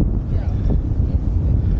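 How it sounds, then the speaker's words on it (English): Wind buffets the microphone while skating downhill in Cape Town, a loud, low, continuous roar with no clear breaks. "It's a bit windy."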